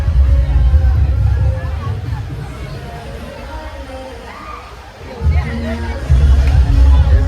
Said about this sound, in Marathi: क्राऊड भरपूर आहे रविवार असल्या कारणाने.